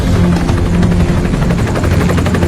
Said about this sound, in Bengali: আমাদের খাওয়া শেষ হতে রেস্কিউ টিমের হেলিকপ্টারের শব্দ শুনতে পেলাম